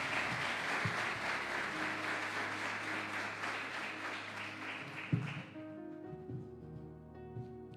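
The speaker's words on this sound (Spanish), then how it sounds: "le damos una ofrenda de aplausos al Señor" A church congregation applauds as an offering to the Lord at an Easter-themed service, a dense, steady clapping that fades out about two-thirds of the way through, leaving soft sustained instrumental tones.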